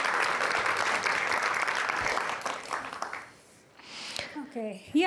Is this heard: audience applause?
yes